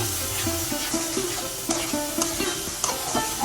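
Spice masala frying in a pan for goat head curry: a soft sizzle under repeated scraping stirs of a spoon against the pan, close and steady.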